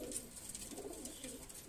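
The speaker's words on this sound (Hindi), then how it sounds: "कबूतरों का" Soft, low cooing of Indian Dubaz, Rampuri and Teddy pigeons rolls on steadily, faint and murmuring, with light rustling in the background.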